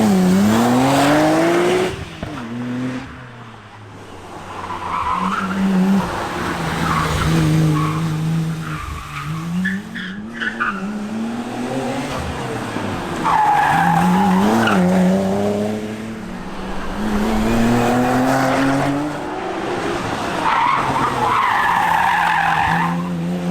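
A Nissan Skyline GT-R lapping a track, its engine revving up and down through gears while the tires squeal and skid repeatedly through corners, loud and close throughout.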